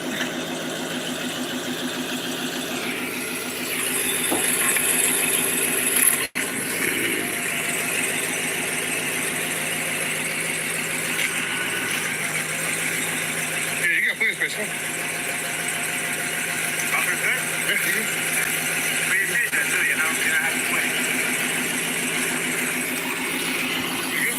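A Dodge Demon 170 V8 sits idling with a steady, loud, continuous rumble and a faint mechanical whine over it, plus one sharp click partway through and no talking.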